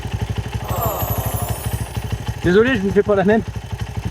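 A 1980 Honda 125 XLS motorcycle engine idles with a steady, rapid pulsing rumble, close by, during the Baja 1000 race, while someone speaks briefly over it.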